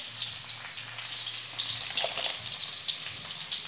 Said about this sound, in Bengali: এবার আলুটা একটু ভাজা ভাজা করে নেব